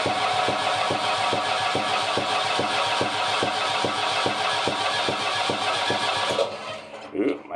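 Cold start of a 1973 Volvo D4 marine diesel aboard an Ingrid 38 sailboat: a steady rhythmic idle with evenly spaced knocks, close and moderately loud, cutting out near the end.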